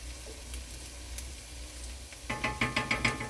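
Vegetables fry in bacon grease for rooster and dumplings, first as a low steady sizzle, then as a louder run of rhythmic scraping stirs with bursts of crackle near the end.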